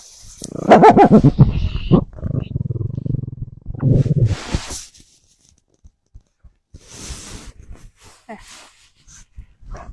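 A dog growls low and rough close by, the rumbling strongest at the start and then fading into quieter breaths and small noises, with no talking over it.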